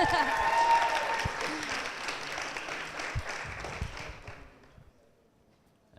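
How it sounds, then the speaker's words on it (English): Audience at a Stickaid 2011 charity music show claps in a dense, loud burst that holds steady for several seconds, then fades quickly to near silence. "Let's get some applause going."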